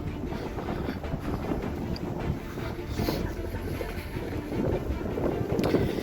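Steady, loud wind buffeting the microphone, a continuous low roar and rumble with gusts throughout.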